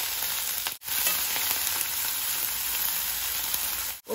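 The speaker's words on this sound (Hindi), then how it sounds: "प्याज, अदरक और हरी मिर्च हम इन तीनों को एक साथ डाल देंगे" Onion, ginger and green chili sizzle loudly in hot oil with bay leaf, whole red chilies and spices, a steady close-up crackle broken by two brief stirring pauses.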